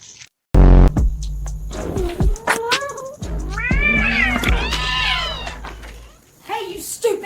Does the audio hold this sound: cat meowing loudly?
yes